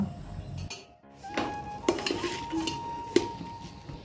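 A cooking pot is stirred on a gas stove that has been lowered, with several metallic clinks and scrapes of a utensil against the pot over a soft background hiss, close and moderately quiet.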